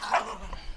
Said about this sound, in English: my dog's very active right now